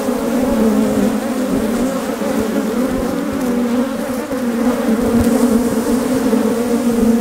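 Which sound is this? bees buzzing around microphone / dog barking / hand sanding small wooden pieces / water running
bees buzzing around microphone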